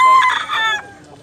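A fighting rooster in Cebu gives a single short, loud, close crow that fades out within about a second.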